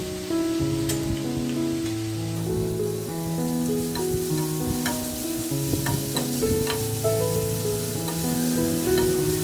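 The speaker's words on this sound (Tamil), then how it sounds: "வெங்காயம் நல்லா வதங்கினதும் சீவி வச்சுருந்த பீட்ரூட் சேர்த்துக்கலாம்." Grated beetroot hits sautéed onions in a frying pan for a beetroot poriyal, giving a steady close sizzle and frying crackle under continuous background music, with no talking.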